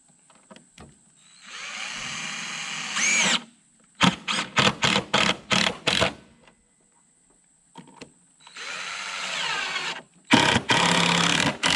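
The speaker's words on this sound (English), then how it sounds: "A couple more screws in it." A cordless drill drives screws into a wooden bat box in a series of whirring bursts, some long and some short rapid pulses, with quiet pauses and small handling knocks between them.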